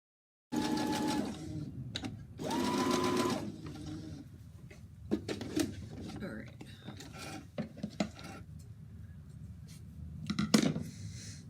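Bursts of a sewing machine stitching around a fabric face mask, two longer runs of fast rhythmic needle chatter followed by shorter stops and starts with fabric handling rustles, close and fairly quiet.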